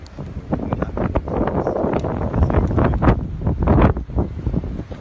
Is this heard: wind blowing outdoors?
yes